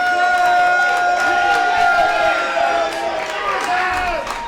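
A wrestling crowd in Ybor roars and jeers at Mercedes Martinez during her main-event match against Jazz, a loud, continuous wall of shouting voices with a few sharper yells rising above it.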